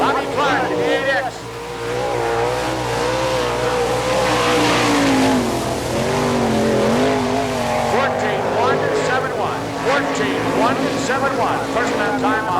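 An ASCS sprint car on a dirt track roars through a lap at the All Star Circuit of Champions Winternationals in Gibsonton, Florida, its engine rising and falling loudly under a continuous announcer's commentary.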